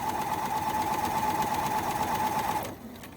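Serger fitted with an Elasticator foot stitching and lightly gathering elastic: a steady, fast mechanical whirring hum running close and clear for nearly three seconds, then stopping abruptly.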